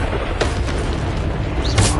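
A Bombarda explosion spell cast in the video game Hogwarts Legacy, heard as a dense, continuous roaring boom with crackling bursts over about two seconds, loud and close.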